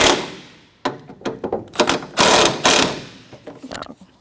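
Ratchet loosening a front strut bolt on a 2007-2017 Jeep Patriot 2.4L, close and loud, with rapid uneven clicking bursts and a few harder metallic knocks.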